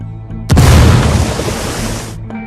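Grenade explosion in the video game Ghost Recon Wildlands, a single loud sudden boom followed by a roaring, slowly fading rumble lasting nearly two seconds.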